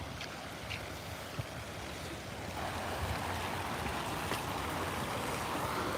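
Water splashing steadily from a public fountain in Spain, a continuous rushing, broadband wash that stays loud and close throughout without pause.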